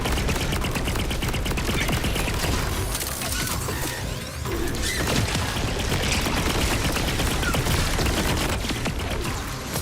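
Nonstop rapid gunfire firing small bullets in Borderlands 4, a dense, loud wall of rattling shots and impacts with no pauses across the whole stretch.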